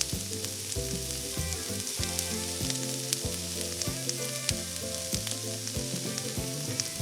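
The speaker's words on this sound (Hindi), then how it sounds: "प्याज को सुनहरा होने तक पका लेंगे।" Chopped onions and curry leaves fry in a pan for a mushroom dish, giving a continuous soft sizzle and crackle heard close but fairly quiet beneath background music.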